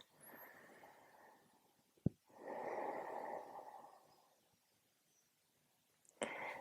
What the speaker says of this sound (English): And just taking a few deep breaths